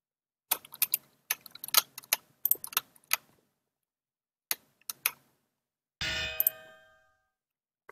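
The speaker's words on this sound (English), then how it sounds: "That anvil sound you just heard indicates that we are too close to shore" In Minecraft with the Movecraft plugin, a boat sailing too close to shore triggers a metallic anvil clang warning, preceded by scattered clicky keyboard-like taps and dings in an otherwise quiet scene.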